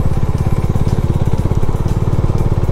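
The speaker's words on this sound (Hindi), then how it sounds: "ये थोड़ा और आगे जाएगी अभी बाइक।" A Bajaj Dominar 400 motorcycle climbing a steep mountain road toward Hatu Peak near Narkanda, its engine thumping loudly and steadily up close with a fast, even pulsing beat and no talk over it.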